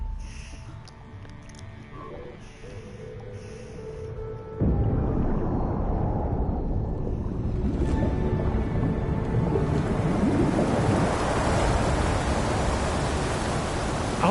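Water drains out of a flooded dome in the game Horizon Forbidden West: a steady broadband rush that starts moderate, then jumps abruptly louder about a third of the way in and keeps pouring continuously to the end.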